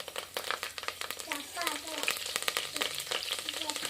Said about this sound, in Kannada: ಎಣ್ಣೆ ಗರಮ್ ಆಗ್ಯದ್ರಿ. ಇದಕ್ಕೆ ಇವಾಗ ನಾನು ಕಡಿಪತ್ತ ಹಾಕ್ಲತ್ತೀನಿ ರೀ